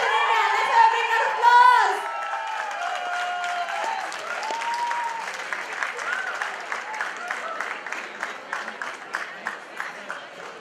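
A college cultural fest audience claps for a duet singing act. The first two seconds carry musical tones and voices, then a sustained round of crowd applause runs at moderate loudness, with faint talk and cheering mixed in.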